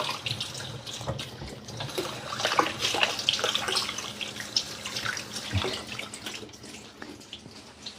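Water running steadily from a kitchen tap during handwashing, a soft continuous splashing into the sink with small irregular bursts, close and alone with no talking.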